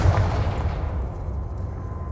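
Confringo fire spell blasting in Hogwarts Legacy, a loud booming burst with a rumbling low-end tail that stays dense and sustained for a couple of seconds, with no voices over it.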